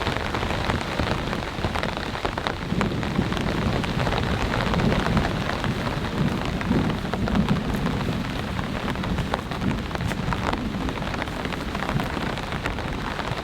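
Heavy rain from Hurricane Debby pours steadily over an off-grid cabin campsite, a dense loud hiss of drops on surfaces with a low rumble of thunder mixed in, no voices.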